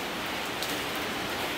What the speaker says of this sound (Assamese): বৰষুণটো দি দিলে পুৰা